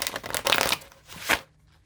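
A deck of playing cards is shuffled up close, giving two quick riffling bursts separated by a brief pause, crisp and fairly loud with no talking.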